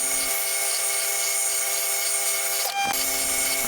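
A metal lathe faces one end of an aluminium workpiece, giving a steady, loud mechanical whine with a constant tone, broken by a brief burst of rougher noise near the end.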